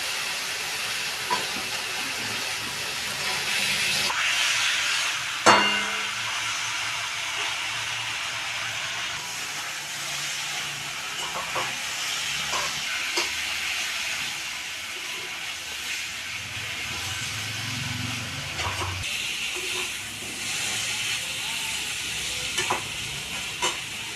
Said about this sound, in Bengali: আর মশলাটা ভাজা হয়ে গেল, এবার আমি লাউটা দিয়ে দেবো।